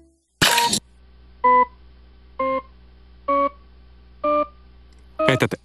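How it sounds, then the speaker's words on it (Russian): A computer-generated Shepard tone sequence of stacked, octave-spaced pure tones, heard as four evenly spaced electronic beeps separated by short silences, framed by brief bursts of noise at the start and end. "Он использовал компьютер для получения последовательности тонов или звукоряда, которые, кажется, повышаются бесконечно."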